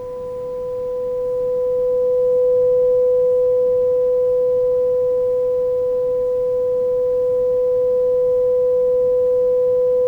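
A steady, pure 500 hertz electronic tone resonating in a tube hums for the whole stretch and swells slightly in loudness early on. The hum is resonant and unbroken, and no one speaks.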